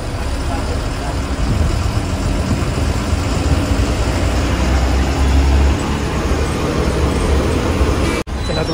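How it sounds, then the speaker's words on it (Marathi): Steady low rumble of a bus engine with road noise, continuous and fairly loud throughout, with a brief dropout near the end. "आता गाडी निघाली पनवेलवरनं"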